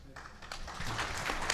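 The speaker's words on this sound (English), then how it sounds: "Let's give a big round of applause to Jim Crisp and all our speakers" Audience applause at the close of a symposium, a dense wash of many hands clapping that swells from quiet to fuller, moderately distant, with a little murmuring underneath.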